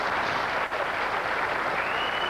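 Brief burst of audience applause at a 1987 professional bowling tournament, a dense even patter of clapping heard at moderate distance with one momentary dip.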